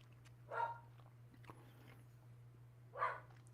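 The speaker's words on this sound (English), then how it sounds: "the dog's gonna bark." A dog barks twice, about two and a half seconds apart, each a short sharp bark heard at a moderate distance over a steady low hum.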